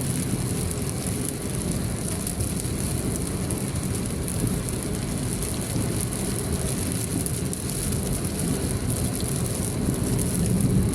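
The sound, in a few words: heavy rain and strong wind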